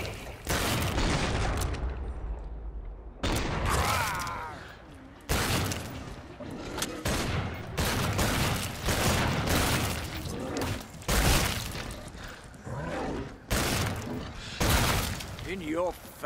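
Cannon fire and explosions in the Killing Floor 2 video game, a dense run of loud booming blasts and crashing impacts, with brief gaps, under talk.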